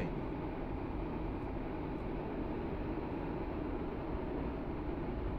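Steady, loud rumble of a passenger train rolling into a station in a Roblox railway game, a continuous mechanical drone with no breaks.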